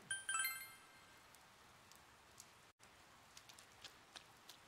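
Steady rain in Persona 4 Golden, a soft continuous hiss at a riverbank with faint tinkling chimes at the start and occasional light drips throughout.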